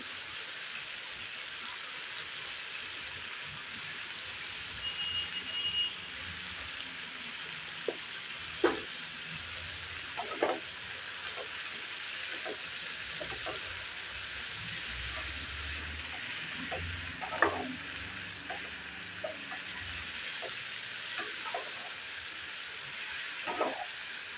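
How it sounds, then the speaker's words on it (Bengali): Ground spices, including chilli powder and turmeric, sizzle as they are sautéed in a pan. The soft frying hiss runs steadily throughout, with occasional sharp clicks and taps from stirring. No voices are heard. "সব মশলাগুলো দিয়ে দেবো, দিয়ে কষিয়ে নেব।"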